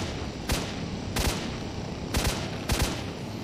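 Four sharp gunshots crack at steady intervals, fired by zombified enemies in S.T.A.L.K.E.R.: Shadow of Chernobyl, fairly faint over a constant background hiss.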